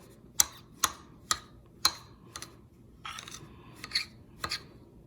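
A spoon stirs snow ice cream in a bowl, giving close, crisp clinks and scrapes at a steady, roughly half-second rhythm, with no talking.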